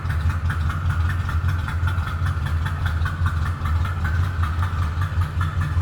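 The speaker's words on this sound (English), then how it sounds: "This would have the one exhaust coming out the passenger side, so I'm going to slip over this side so you can hear it" A 1962 Ford F100 Custom Cab truck idles through its single passenger-side exhaust, a steady, low, rumbling burble heard up close without a break.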